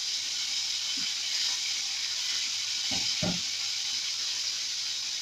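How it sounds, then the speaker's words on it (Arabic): Chicken pieces fry in a pan for Syrian shawarma, a constant bright sizzle filling the space, with a few soft clunks of stirring partway through. "هنزل الفراخ الاول اديها صدمه كده"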